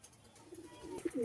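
A Lambadi pigeon gives a short, low coo near the end, close and soft after a quiet stretch.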